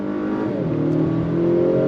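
A 2025 Acura RDX A-Spec luxury sport SUV with a 10-speed transmission accelerating on throttle, its engine note rising steadily and loud from inside the cabin, with no talk.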